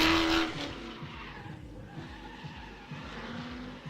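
Drift car tires squealing hard on a track at a drift event, a loud sustained screech with engine roar that starts strong, dips briefly and carries on through the run, no talking.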